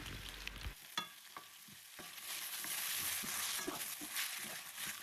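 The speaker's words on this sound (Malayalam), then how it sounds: "നമ്മൾ അരിഞ്ഞു വെച്ചേക്കുന്ന ആ ഒരു സവാള നമ്മുടെ പാനിലേക്ക് ഇട്ട് കൊടുക്കാം" Chopped onion drops into a hot pan for a Kerala-style chicken curry and sizzles steadily, with close stirring scrapes and clicks over a continuous frying hiss and no talking.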